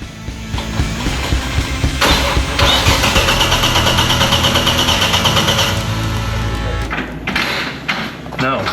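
A Nissan Patrol's TB48 engine cranks, catches and starts, then settles into a loud, close idle with some revving, while people talk nearby.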